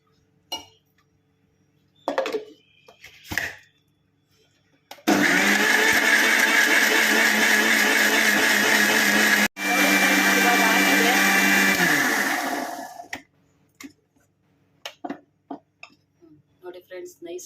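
A mixer grinder grinds cooled masala for vegetable pulao, whirring loudly and steadily for about eight seconds, briefly cutting out midway, with clinks and short noises before and after.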